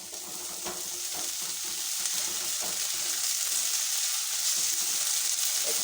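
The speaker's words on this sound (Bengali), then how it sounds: "একটু ভালো করে কষিয়ে নেব।" Ginger and garlic paste sizzles and fries in a pan for a spiced meat pitha, a continuous bright crackling hiss broken by a few scraping stirs, steady and close with no talking.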